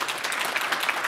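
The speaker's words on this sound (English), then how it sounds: "let's have a round of applause for Jerry for getting all of this together" Brief burst of conference audience applause for organizer Jerry, a dense steady patter of many hands clapping in a hotel venue, moderately loud with no pause.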